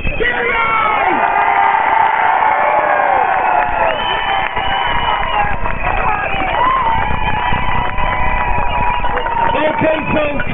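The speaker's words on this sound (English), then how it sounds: "give a round of applause" A large crowd claps and cheers continuously, with whoops and shouts rising over steady applause throughout.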